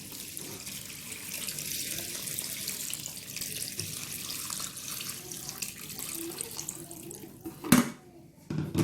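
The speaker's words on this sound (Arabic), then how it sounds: "عندنا هنا نديرو الماء، شي الماء ما نقليوهاش" Water running from a tap into a pot for Moroccan rfissa, a steady close rush that cuts off near the end with a clunk, with no talking.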